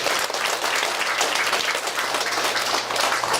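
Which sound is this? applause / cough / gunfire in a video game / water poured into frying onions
applause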